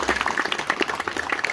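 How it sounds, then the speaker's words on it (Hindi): At a dinner gathering at a minister's residence, people clap in a quick burst: brief, fairly close clapping with distinct individual slaps, lasting under two seconds. "आप लोग जोरदार ताली बजा दीजिए"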